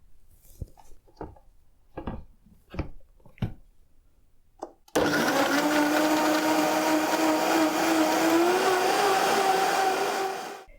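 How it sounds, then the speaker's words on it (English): A few soft knocks and taps, then a blender roars to life and runs loud and steady at high speed blending smoothie ingredients before cutting off. "All our ingredients are in our blender, and we just have to blend it."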